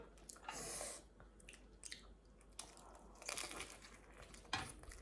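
Crunchy bites and chewing of fried spring rolls, close and crisp, with several loud crackling bites spread across the moment and no talking.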